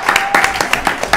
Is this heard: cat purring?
no